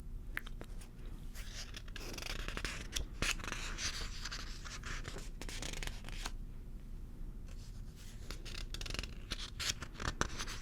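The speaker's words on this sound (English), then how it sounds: "I really like page turning sounds." Paper pages of a Pokemon book are turned close up, giving soft, steady rustling and crisp flicks that repeat over several seconds in a quiet room with no talking.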